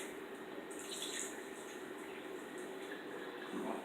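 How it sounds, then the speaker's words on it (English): Water poured steadily into a jackfruit seed, oats and cinnamon mixture, a soft continuous trickling splash at close range. "Then we're gonna pour a little water."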